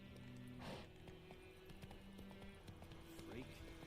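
Hooves clip-clop in a quick galloping rhythm as the horse Roach runs in The Witcher 3, with game music and ambient sound underneath and a few faint effects layered in.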